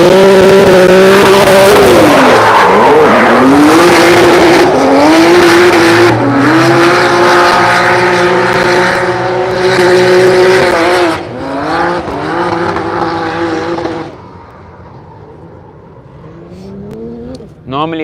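A drift car on a practice run at Driftkings in Cyprus roars at high revs with squealing tires through long slides, loud and sustained, then the engine note falls away toward the end, with voices faintly underneath.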